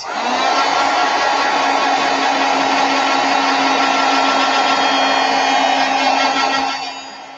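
A heat tool blows hot air steadily to dry acrylic paint on a flower painting, a loud, constant whooshing whir with a faint hum that runs unbroken for about seven seconds before tailing off.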